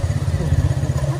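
A motorbike engine idles nearby in a steady, low rumble, with faint clatter, as it is moved off toward parking at a zoo park.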